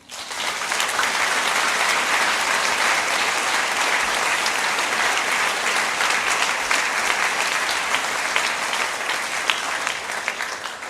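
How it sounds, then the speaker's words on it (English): Sustained audience applause at a primary school Grade 6 and 7 awards ceremony, steady dense clapping from a large crowd lasting throughout without a break. "Let's give everybody a round of applause."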